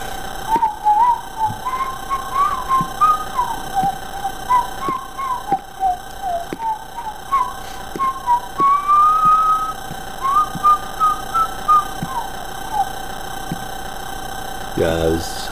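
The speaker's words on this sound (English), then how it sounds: "time to test out the old whistle" A thin, wavering whistled melody plays in the video game IMSCARED, a sustained tune of short tones that rises and falls over a steady electronic hum with faint clicks.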